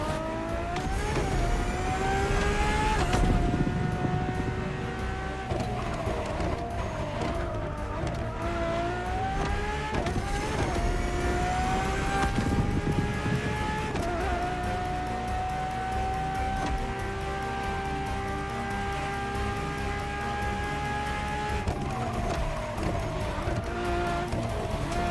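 A Ferrari Enzo's engine driving in The Crew Motorfest racing game, loud and steady, revving through rising gear pulls with shifts and sustained high-pitched drones, close and continuous without talk.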